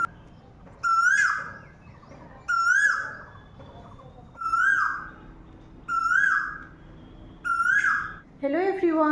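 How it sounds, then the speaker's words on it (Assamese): An Asian koel calls in the morning, repeating a clear rising whistled note about five times at steady intervals, fairly close, before a different, harsher call at the end. "এই কুলিজনী ৰাতিপুৱা 5টামান বজাৰ পৰা ইয়াতে কু কু কৰিয়ে থাকেহি"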